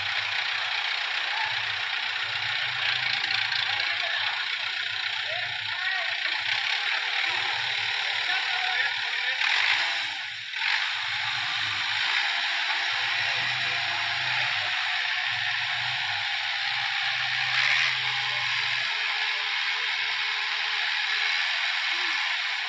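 A New Holland 850 tractor engine runs steadily at idle, a continuous mid-pitched diesel rumble with a faint knock, close and unbroken for over twenty seconds, with no voices heard.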